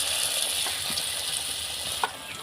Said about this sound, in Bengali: এইভাবে নিয়ে এবার এটাকে তেলে ছেড়ে দিলাম।